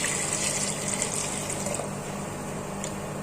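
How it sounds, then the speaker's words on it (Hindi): About three glasses of water pour into a pot of tomato sambar in one steady, close splashing stream with no talk. "टमाटर और सांभर के लिए अब डाल देंगे 3 गिलास के करीब पानी।"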